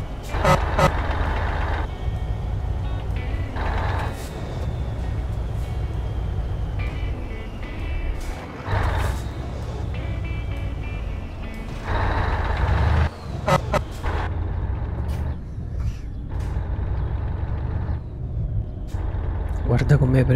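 A Turbo Star 640 hp truck accelerates in Euro Truck Simulator 2, its engine droning loudly and rising through gear changes, with a person talking over it much of the time.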